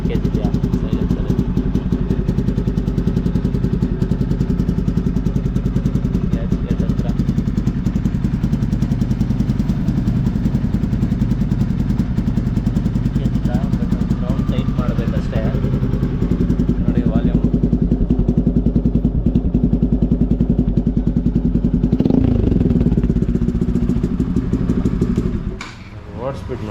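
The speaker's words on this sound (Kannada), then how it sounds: "ಕೇಳಿಸ್ಕೊಂಡ್ರಲ್ಲ ಎಕ್ಸಾಸ್ಟ್ ಸೌಂಡು." A Pulsar NS200 motorcycle with a modified exhaust idles close by, giving a loud, steady, low rumble that holds for the whole stretch and then dips sharply at the end.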